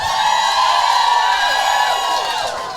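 A live festival crowd at Bramble Fest cheers and whoops loudly, a dense wall of voices sustained for a few seconds before easing slightly.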